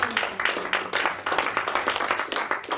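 A church congregation claps in quick, steady rhythm, loud and near, acclaiming Jesus, with voices faintly mixed in under the hand claps.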